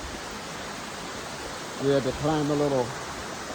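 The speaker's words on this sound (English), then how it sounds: "But now we're on top of the waterfall." Steady, broadband rushing of water at the top of a waterfall along a hiking trail in Africa, a constant roar with someone speaking briefly over it.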